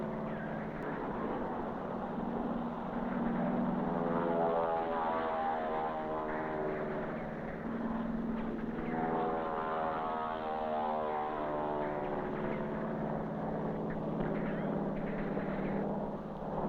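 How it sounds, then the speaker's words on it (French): A propeller airplane passes overhead during a French army training exercise over ground signal panels, its steady droning engine hum swelling and fading with a pulsing, beating tone, loud and continuous. "L'avion survole le panotage."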